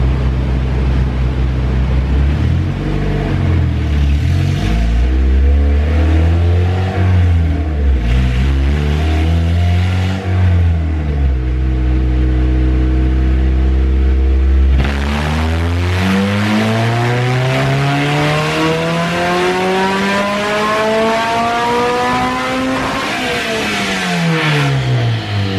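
Honda K24 engine in an EP3 revving hard on a dyno with the exhaust dropped after a Jackson header, loud raw roar climbing and falling through several pulls, then a long sweeping rise to high revs and back down.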